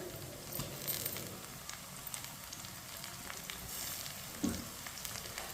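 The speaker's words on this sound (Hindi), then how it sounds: "लहसुन को भी 1 मिनट के लिए पका लेंगे। इसे ऐसे ही चम्मच चलाते हुए पकाएं।" Steady sizzling and crackling of crushed garlic frying with lightly browned onions in a pan, continuous and moderately close, with a brief clink of a spoon near the end.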